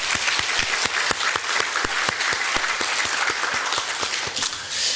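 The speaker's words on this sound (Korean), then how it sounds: "영광의 박수 올려드리기를 원합니다." Steady applause from a church congregation at a Korean church in Dallas marking its 49th anniversary, a dense continuous patter of many hands clapping at close to moderate distance, with no speech over it.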